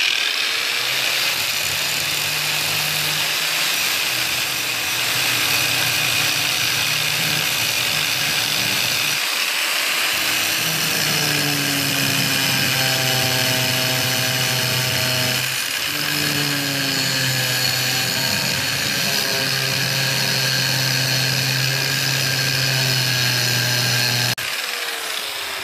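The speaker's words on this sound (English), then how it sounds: "we're going to go ahead and we're going to take the grinder" An angle grinder cuts into a WW2 military trunk from an abandoned storage unit, a loud continuous whine that rises and falls in pitch as the disc bites into the metal, with a few brief pauses and no talking.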